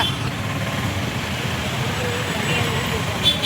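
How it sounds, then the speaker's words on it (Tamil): Steady road traffic behind a temple at Thiruparankundram during a crowded milk abhishekam festival, a constant broadband rumble of cars, trucks and buses heard from nearby with no distinct pauses, a slight swell near the end. "பார்த்துக்கங்க, பின்னாடி சரியான டிராஃபிக்,"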